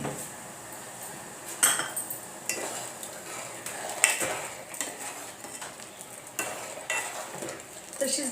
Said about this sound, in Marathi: तर छान अशी घेऊया खीर शिजवून